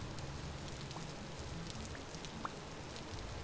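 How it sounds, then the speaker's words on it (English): Rain falls steadily in the survival game Vintage Story, a soft continuous hiss with faint scattered drop taps and no voices. "Now it's raining."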